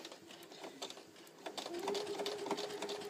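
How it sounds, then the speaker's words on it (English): An NQ900 sewing machine stitches forwards at a steady pace, its needle mechanism producing a fast, even rattle that holds close and fairly quiet throughout. "when I push down on my foot, you'll see that the machine is stitching forwards"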